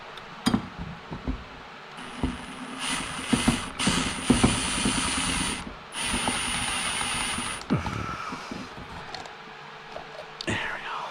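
Screws are backed out of an electrical ceiling box in a shop, giving close ratcheting clicks and scraping metal taps in short bursts, with a faint whispered voice in the background.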